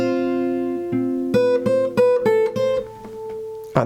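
Plucked fingerstyle acoustic guitar notes ring out one after another, building into overlapping chord tones with a clear, steady picking rhythm and no voices.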